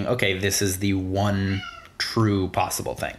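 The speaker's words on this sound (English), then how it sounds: "Sorry about my cat going nuts." A pet cat yowls loudly in drawn-out, rising and falling meows, several cries in a row, close by and mixed in with a person talking.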